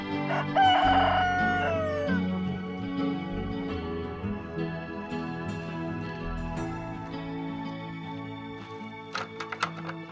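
A coyonco rooster of Araucana type, a blue-egg breed, crows loudly and close by in a long drawn-out call near the start, with other farmyard fowl sounds continuing afterward.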